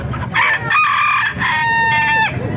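A rooster crows loudly and close by, one long drawn-out call that rises and holds before trailing off, with faint farmyard noise around it, in Baliuag, Bulacan, Philippines.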